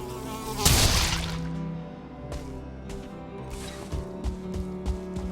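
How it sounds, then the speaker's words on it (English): A mosquito in the Valheim game world buzzes in thin, wavering drones that come and go over a low background hum, with a brief loud crash early on and a few soft clicks later. "Get away from me, you stupid mosquito. I hear him coming"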